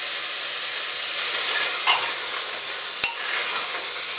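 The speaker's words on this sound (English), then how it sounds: "we'll saute this rajma in the spices for a couple of minutes" Rajma kidney beans sauté in spices inside a pressure cooker, giving a steady loud sizzling hiss with a couple of brief scraping stirs and a sharp clink near the end.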